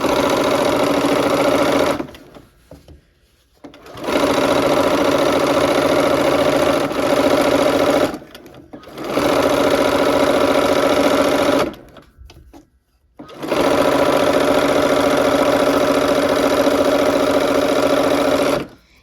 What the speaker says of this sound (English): get my needle down and start sewing